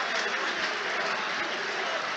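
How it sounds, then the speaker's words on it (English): Arsenal supporters cheering in the stands at a Premier League football match, a dense continuous roar of crowd noise with scattered clapping, steady and fairly distant. "A big cheer from the Gunners fans."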